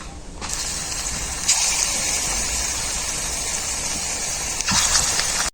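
Fuluri fritters frying in mustard oil give a loud, steady, broad sizzle close up, with a couple of brief surges, before cutting off abruptly.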